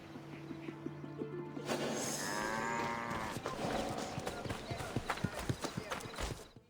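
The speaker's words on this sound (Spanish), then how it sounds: "Enganchaban burros o bueyes a un poste en el centro de la era y los hacían dar vueltas" Oxen or donkeys tread grain on a threshing floor in ancient Greece in Assassin's Creed Odyssey, with a low moo and braying calls followed by a steady run of clip-clopping hooves, close and moderately loud.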